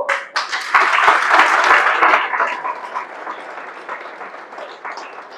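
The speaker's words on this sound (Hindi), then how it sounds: "सब अपने लिए ताली बजा लो" A seminar crowd claps for itself at a network marketing event, bursting into loud, dense applause that peaks early with a few sharp individual claps, then gradually thins and fades toward the end.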